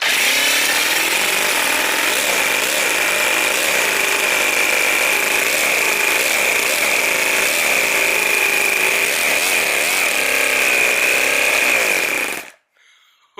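A four-cylinder V400 four-stroke nitro RC engine running flat out, a loud, continuous, buzzing high-pitched drone with slight wavering in pitch that cuts off abruptly near the end.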